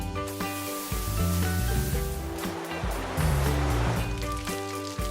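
Ocean waves from an iPhone's built-in background sounds feature, a continuous rushing surf wash with gentle swells, heard alone at moderate volume.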